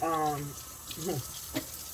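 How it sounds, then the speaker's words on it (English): Tap water runs into a sink while raw chicken breasts are rinsed in tepid water, a steady hiss under a short stretch of speech and some handling noises close by. "So I am rinsing them. Like I said, the water is tepid."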